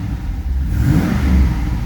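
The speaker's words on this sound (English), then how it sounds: "Let me give gas a little bit." A 2006 Pontiac GTO with a 6.0 V8 revving up from idle in a short, steady rise of deep engine roar, heard close with no talking over it.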